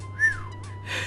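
A single rising-and-falling whistle tone from the King's Quest 6 adventure game, clear and close, followed by a soft breathy rustle against a low steady hum.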